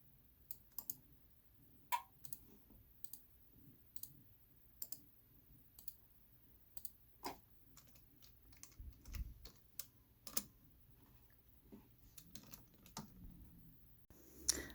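Sparse, quiet clicks and keystrokes on a computer keyboard while signing in to a work computer, irregular taps spread across a hushed room with no talking.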